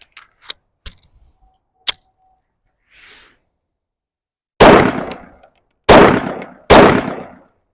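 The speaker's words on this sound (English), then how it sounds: "So let's load up some mags and just kind of shoot this." A Sig P365 pistol on a macro frame fires three loud, close shots in quick succession, each a sharp crack with a short decay. A few metallic clicks and clanks of gun handling come first. There is no talking.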